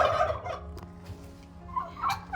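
Turkeys on a turkey farm gobble in loud, rapid warbling bursts, one near call opening the stretch and another rising toward the end, with other farm noise between.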